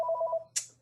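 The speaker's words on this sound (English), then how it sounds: "my phone is ringing" A phone rings in a woodworking shop with a short electronic tone pattern, then a hissy burst follows, fairly close and with no talk over it.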